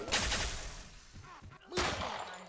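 Dragon Tail gun in the video game XSHOT, firing four rounds at a time, heard as two loud, sharp bursts of rapid gunfire separated by a quieter gap.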